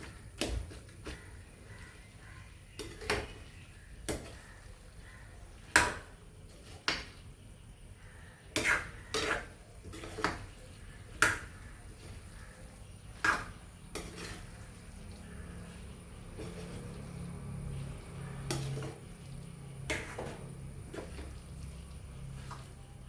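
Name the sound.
mashing dried tapioca by hand in a vessel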